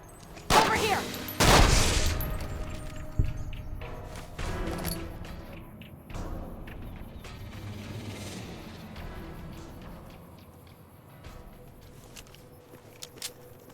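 Gunshots fired at a small gecko in Fallout New Vegas: a few loud, sharp reports early on, then quieter thuds and ambient game sound, with a voice speaking briefly.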